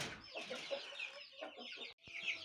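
Chicks for sale cheep and cluck in a quiet run of short, high chirps, close by and fairly faint, with a brief dropout near the end.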